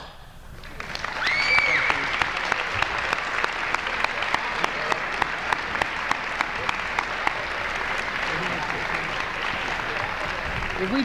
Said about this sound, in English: If we could give a nice round of applause for all 3 of our speakers one more time.